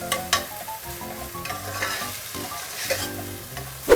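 Tomatoes with salt fry in a pan while being stirred, giving a continuous sizzle with scraping and clinking of the spoon against the metal, ending in a louder knock.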